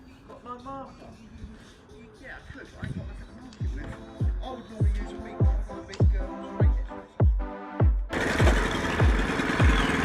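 A powered cutter grinds through block paving down to the sand beneath, its steady motorized drone broken by a regular series of heavy rhythmic pulses, loud and close, ending in a harsh, bright burst of noise.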